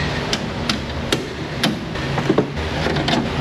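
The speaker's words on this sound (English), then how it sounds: "I'm gonna get me a little hammer because front end work requires the use of a hammer." Sharp metallic hammer strikes on the front suspension of a Chrysler Sebring in a repair shop, irregular single blows close by over a steady workshop hum.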